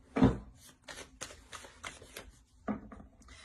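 Oracle cards being shuffled for a love reading, a string of soft papery riffles and slaps in an uneven rhythm, close and fairly quiet, with no talking.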